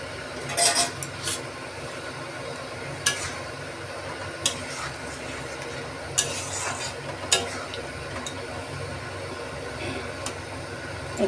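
Egg tadka curry bubbling in a pot as tadka masala is stirred in, a low continuous simmer broken by several sharp clinks of a spoon against the metal vessel, near and moderate.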